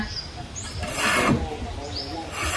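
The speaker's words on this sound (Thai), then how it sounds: "นี่กบขูดตอกนะอ้าวกบขูดตอก" A hand plane scrapes a thin bamboo strip, giving short rasping, woody strokes close by, one stroke swelling louder in the middle of the clip.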